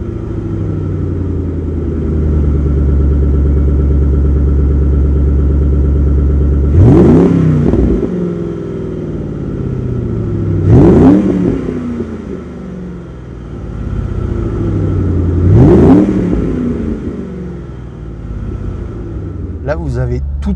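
A 2007 Ford Mustang engine idles with a loud, steady low rumble, then revs sharply three times in spaced bursts, each rising and falling back toward idle, recorded close up.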